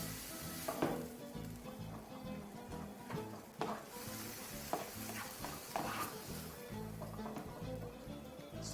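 Kale coated in coconut stirred around a large pan, steady sizzling with repeated scraping and clacking of a utensil, close and fairly loud throughout.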